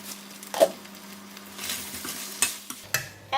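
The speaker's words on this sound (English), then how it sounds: "let the chicken simmer slowly, and it will release the juice" Chicken simmering in a covered pot of Thai panang curry, with soft steady sizzling and bubbling broken by a few sharp clinks and stirring scrapes close by, with no talk.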